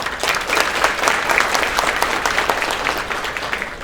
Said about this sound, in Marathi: आम्ही तुम्हाला टाळ्या वाजवून तुम्हाला थँक्यू बोलतो